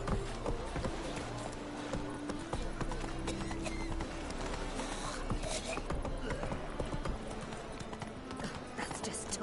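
Roach the horse gallops in The Witcher 3 video game. A quick, steady clip-clop of hooves runs through the whole stretch under game music and ambience, with voices talking over it.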